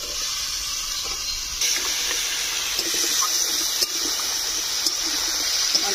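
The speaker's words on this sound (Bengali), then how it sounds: "অল্প করে জল দিলাম" Water is poured into a pan of frying bottle gourd and potato, making a steady, close rushing splash that runs continuously for several seconds.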